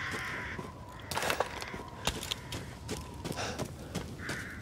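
Crows cawing in Resident Evil Village, several harsh caws at moderate distance over a quiet outdoor ambience with soft footstep-like thuds.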